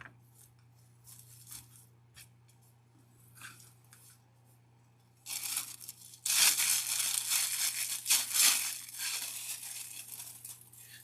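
Wreath decoration material, likely ribbon or mesh, is trimmed and handled, with quiet rustling at first, then louder crinkling, rasping and snipping that continues close up without speech.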